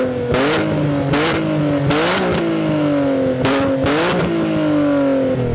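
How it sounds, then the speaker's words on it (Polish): An Alfa Romeo Busso V6 engine revs hard in repeated bursts, about six throttle blips over a steady idle, loud and close with a raspy, rising growl. "będzie to silnik V6 Busso"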